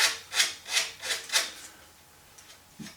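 Fine 400 grit sandpaper rubbing burrs off aluminium aircraft parts for a vertical stabilizer, five quick rhythmic scratchy strokes up close, then a quiet tail with a faint knock.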